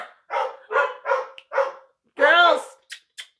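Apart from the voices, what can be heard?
dogs barking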